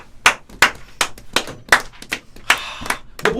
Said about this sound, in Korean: 자, 일단 2명 뽑혔습니다. 박수.